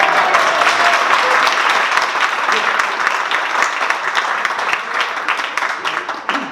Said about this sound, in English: how about a round of applause for high school kids?